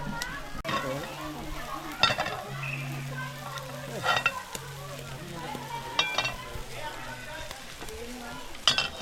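Food sizzles on an outdoor grill with bursts of frying hiss, repeated scraping and stirring clatter, and a low hum beneath, heard at close range.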